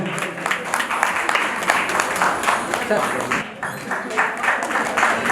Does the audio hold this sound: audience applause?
yes